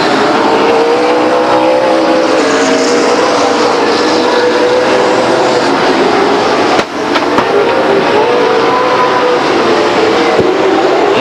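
Race cars roar past at Stockton 99 Speedway in a loud, sustained engine drone, with pitch sweeps and one sharp knock midway.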